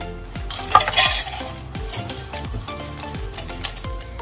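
Fried elephant foot yam pieces tumbled from a pan into a basin, with repeated metallic scrapes and knocks of a spoon against metal, close and moderately loud.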